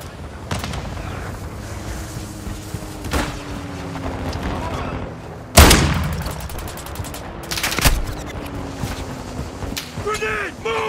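Gunfire in Call of Duty: Modern Warfare II, with sharp loud shots and bursts cracking irregularly over a rumbling battlefield bed, including a heavy blast midway and a few quieter hits.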